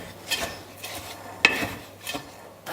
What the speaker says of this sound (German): So, jetzt haben wir alle trockenen Zutaten und die vermischen wir jetzt erstmal.